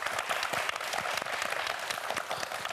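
A studio audience on the Korean quiz show QUIZ 킹왕짱 applauds a winning student, a dense, continuous patter of many hands at moderate volume.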